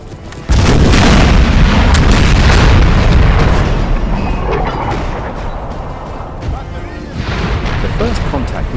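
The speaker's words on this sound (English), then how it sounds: "As the artillery rained down on the enemy, we knew luck was with us." Artillery bombardment in the Total War Empire strategy game, an invasion of Spain battle: a sudden heavy boom opens a dense, sustained rumble of overlapping blasts that stays loud and rolling, with further explosions flaring throughout.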